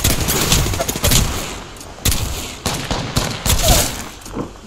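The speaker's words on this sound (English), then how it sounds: "Getting shot at." Loud, close gunfire in a shooter video game comes in repeated rapid bursts separated by short gaps, with a steady clattering rhythm throughout.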